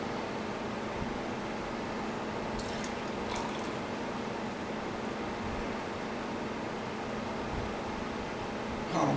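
Pumpkin ale beer pours into a glass as a steady, soft liquid hiss and fizz, with faint drips over a constant low room noise and no talking.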